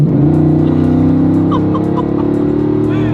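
Rezvani Tank armored SUV with a 500-horsepower engine pulls out onto the road, its loud steady engine drone and rising rev tone close by, running continuously on its own.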